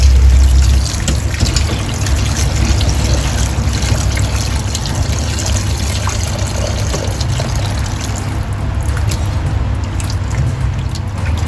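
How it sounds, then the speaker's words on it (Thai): Tap water runs steadily over pork fat being rinsed after salt and vinegar, a continuous close splashing hiss that stays even throughout. "จากนั้นเราก็จะเปิดน้ำล้างเลยนะคะ"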